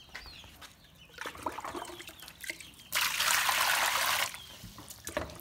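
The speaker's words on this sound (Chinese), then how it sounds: "先把这个准备好的南瓜清洗一下" A pumpkin is washed with water in a rural Yunnan farm kitchen: soft trickling and splashing, then a loud steady gush of running water for about a second and a half before it settles back to faint dribbles, with chickens clucking in the background.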